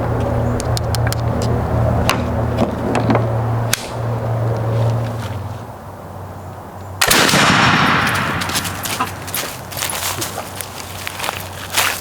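Muzzleloading shotgun loaded with 7.5 shot fired at a 25-yard pattern target, a single loud close blast that decays into a long rumbling tail, preceded by low engine-like hum and faint rustling.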